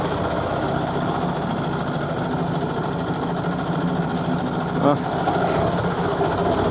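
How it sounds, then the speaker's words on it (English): A vintage Scania truck at a historic truck meet revs and pulls away, its diesel engine a steady low rumble close by, with chatter and other crowd noise mixed in around it. "Oh, the Scania is leaving."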